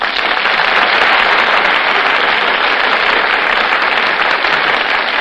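Studio audience applause on the Gulf Theater radio stage as Fred MacMurray and Carole Lombard make their entrances, a dense, steady wash of clapping, loud and sustained throughout without a break.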